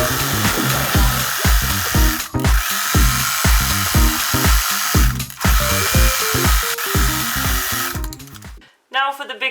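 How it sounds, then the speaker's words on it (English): A sewing machine stitches steadily around the edge of a crazy quilt block, its needle thumping in a fast rhythmic chatter close by, pausing briefly a few times before it stops near the end. "Now I'm going to go sew all the way around"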